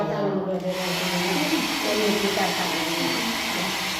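A hair dryer blows an older woman's thin hair, making a steady, loud whirring blast that holds evenly throughout after a brief softer start.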